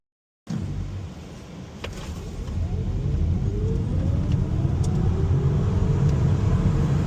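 A Tesla Model S on new wheels and tyres accelerates hard, a steady rising rumble of road and tyre noise building in loudness after a short silence, with a faint whine climbing in pitch and no talk.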